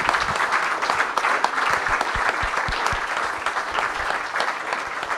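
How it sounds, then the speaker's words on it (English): A live event crowd applauds its speakers with continuous, loud, crisp hand claps, individual sharp claps standing out near the microphone over the broad wash of clapping throughout. "massive round of applause for our amazing speakers"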